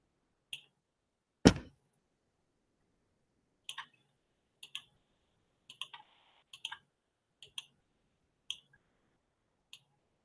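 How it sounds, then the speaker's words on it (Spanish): Sharp computer mouse clicks on a quiet desk during a circuit simulation, coming singly and in quick pairs spread across about ten seconds, with one louder thump early on and no talking. "Doble clic y le doy a aplicar."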